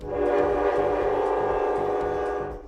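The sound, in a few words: high-speed train passing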